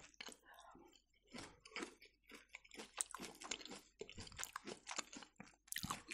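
Beet salad with raisins, currants and nuts being chewed up close, with crisp crunching bites and wet mastication in an irregular rhythm, quiet and intimate, with no talking.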